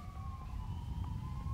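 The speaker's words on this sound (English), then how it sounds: "Emergency sirens wail in the distance" Emergency sirens wail far off beyond a steady low rumble of traffic and wind, a thin drawn-out tone falling slowly in pitch.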